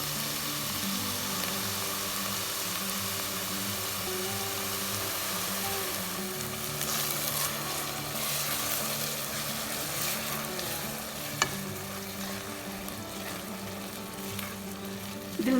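Bottle gourd halwa with condensed milk and ghee cooking in a pan, giving a steady soft sizzle and bubbling with occasional faint stirring, no voices over it.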